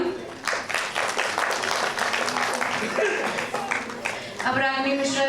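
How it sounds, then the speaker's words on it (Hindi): Audience applause at an annual day cultural celebration, a short burst of steady clapping from the crowd with voices and chatter underneath, ending as a voice rises near the close. "प्लीज जोरदार तालियां।"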